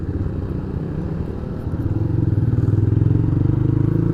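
A Timori motorcycle engine idles steadily and close, a low chugging rumble that grows slightly louder and more pulsing toward the end, heard alone without voices.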